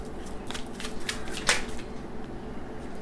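Tarot cards shuffled by hand, a soft continuous riffling and sliding with a few brief papery flicks and one sharper snap near the middle, close up, no talking.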